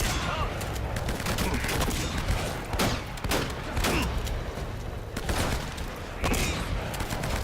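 Gunfire in the video game Uncharted 1, with shotgun blasts among repeated sharp shots spread irregularly across a sustained noisy game soundscape, with a voice talking at times.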